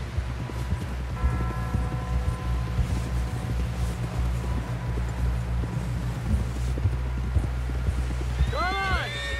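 Horse hooves trot in a steady clip-clop rhythm across open ground in the video game Red Dead Redemption 2, under wind and soft ambient rustle, with a few rising bird-like chirps near the end.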